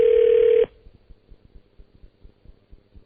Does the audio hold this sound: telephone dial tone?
yes